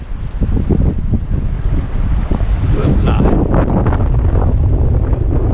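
Strong wind buffets a sailboat at sea running about 20 knots abeam under reefed sails, a loud continuous roar of gusts and microphone buffeting mixed with splashing water and hull rush, close and constant throughout.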